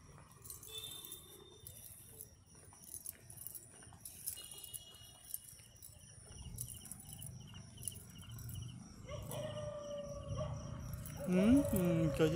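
Dogs bark and howl while a motorbike passes along a wide four-lane road, with scattered barks throughout, some jangling and clinking, and rising engine and traffic noise toward the end; a voice talks over part of it.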